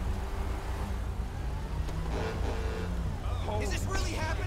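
An Audi R8 in Grand Theft Auto V runs with a steady low engine hum under a voice, with rising and falling tones near the end.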